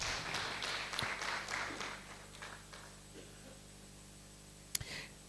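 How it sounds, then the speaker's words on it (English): Audience at an affordable housing conference giving a speaker a short round of applause, scattered claps fading within a few seconds, then quiet room tone broken by a couple of sharp knocks near the end. "A hand of applause to Tierno."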